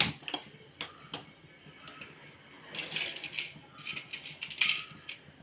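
A kitchen stove is lit while sundal is being made: a run of small sharp clicks, followed by a couple of soft rushing bursts, close and fairly quiet.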